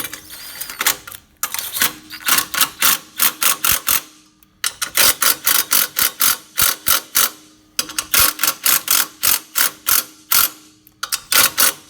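Ratchet tightening bolts on the rear shock guards of a Toyota Land Cruiser, loud close bursts of rapid clicking in repeated strokes separated by short pauses.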